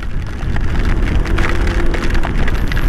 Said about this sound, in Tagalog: Ang laki ng patak oh, grabe.